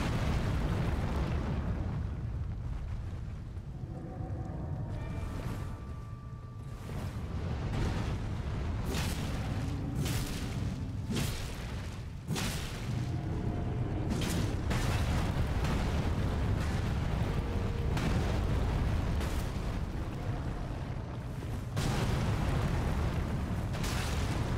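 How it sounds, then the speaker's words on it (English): Enemy gunfire and blasts in the video game Elden Ring, a dense run of sharp, loud bursts and booming impacts over a constant rumbling roar, close and continuous for over twenty seconds. "Oh, there's a guy shooting."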